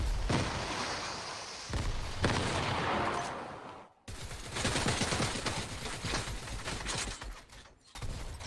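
Video game gunfire and explosions in a Fortnite VR match, with dense, loud bursts of rapid shots and blasts continuing almost without a break, briefly dropping out once midway.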